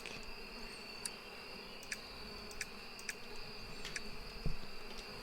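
Small bees buzzing in the beekeeping video game Apico, a steady thin drone running throughout with a few short bright clicks scattered over it, faint and continuous.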